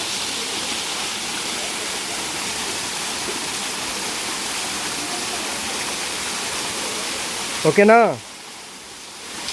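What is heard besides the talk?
Gandahati waterfall flowing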